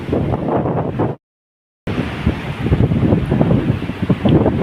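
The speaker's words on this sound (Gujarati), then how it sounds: "થોડાક મોજા પણ વળી રહ્યા છે આમાં" Rough, surging roar of monsoon-season sea waves breaking on the shore, mixed with gusty wind buffeting the microphone, interrupted by a short silent gap.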